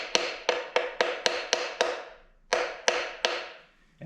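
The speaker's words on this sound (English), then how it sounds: "I want to just kind of tap it." Sharp taps on a 2JZ engine part as it is seated onto its alignment pins: a quick run of six evenly spaced, ringing knocks, a pause, then two or three more, close and clear with no talk.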